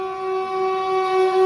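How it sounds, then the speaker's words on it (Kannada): Train on the Bengaluru to Mantralayam line approaching at high speed from the opposite direction, sounding a long, steady, loud horn tone that swells slightly as it nears. "ಯಾವುದೋ ಹೆವಿ ಸ್ಪೀಡಲ್ಲಿ ಈಗ ನಮಗೆ ಅಪೋಸಿಟ್ ಆಗಿ ಬರ್ತಾ ಇದೆ ಟ್ರೈನ್"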